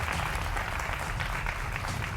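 Steady studio audience applause on a Hindi television debate show, dense and continuous clapping at an even level throughout, with a low hum beneath and no talk.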